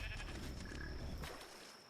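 Sheep bleating in the video game ARK, a faint, steady in-game animal call over a low ambient rumble, heard alone for about two seconds before fading slightly.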